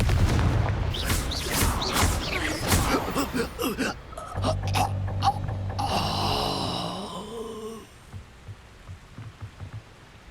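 Explosive spell blasts in Hogwarts Legacy, a cluster of heavy booming impacts up front followed by a lower rumbling tail and fading crackle, with game effects layered over the blasts.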